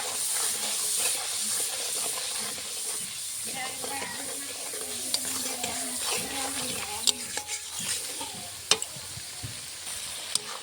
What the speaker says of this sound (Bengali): তেলে দিয়ে দেবো নুন, স্বাদ মতো, পরিমাণ মতো একটু হলুদ গুঁড়ো দিয়ে ভেজে নেবো তেলটাকে।